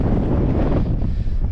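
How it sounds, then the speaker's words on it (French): Strong wind roars steadily across the microphone during an electric mountain bike ride on an open plain in the Basque hills, a loud continuous rushing with gusty fluctuations and no speech. "Le vent."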